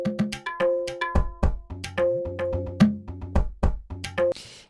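Sampled tabla drum rack one-shots play in a quick rhythmic pattern, bright ringing strokes with pitch glides over deep booming bass hits, ending on a brief noisy burst.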